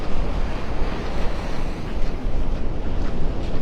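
Strong wind and breaking surf on Vanderbilt Beach in North Naples, a loud, steady roar of waves with gusty wind buffeting the microphone throughout.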